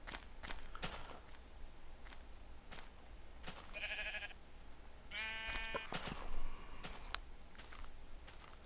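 A Minecraft sheep gives two short bleats a second or so apart against quiet game ambience, with crisp clicks and footstep-like taps scattered around them and no talking.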